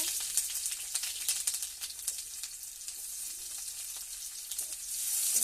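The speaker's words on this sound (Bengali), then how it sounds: "পেঁয়াজটা ভেজে নিচ্ছে।" Onion fries in oil in a wok that was first tempered with five-spice seeds. It gives a dense, continuous sizzle and crackle with light stirring scrapes, close and steady for the whole stretch, and no one speaks.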